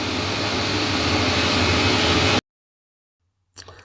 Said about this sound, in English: That's the sound of the vacuum cleaner running in the grit blaster.